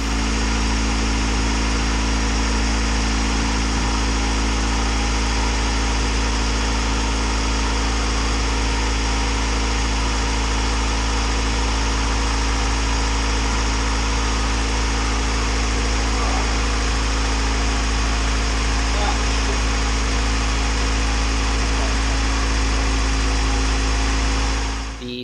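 A naturally aspirated Honda Integra Type R, turbo just removed and running slightly smoky, idles in a steady, unbroken drone with a constant low hum and buzzing overtones throughout.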